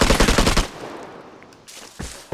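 A fast burst of gunfire in the video game Vigor, loud and close, then a quiet gap followed by a couple of single, sharper shots.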